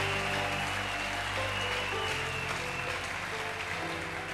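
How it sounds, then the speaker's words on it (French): A church congregation claps and cheers at a revival service, a loud, continuous wash of applause with tonal music or voices sustained beneath it. "Donnez les acclamations."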